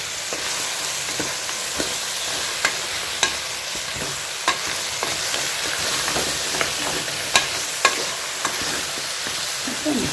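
Goat trotters being mixed with salt in a hot pan for soup: a steady sizzle with repeated sharp scrapes of a spoon against the pan, close and even, no voices.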